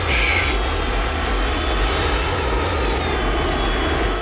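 Harrier jet engines in the F1 Race Stars racing game give a loud, constant roar with a deep low drone, steady and near throughout with no talk.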